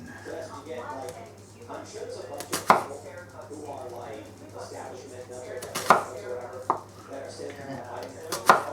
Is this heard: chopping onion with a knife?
yes